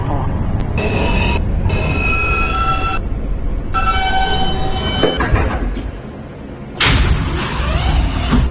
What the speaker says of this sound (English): This is a Broad Street bound J local train.